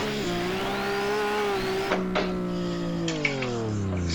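Simulated car in Assetto Corsa on the Gunsai Touge mountain pass going into a big handbrake drift, with a loud, steady engine drone whose pitch drops sharply through gear changes and falls away as the car slides into the corner.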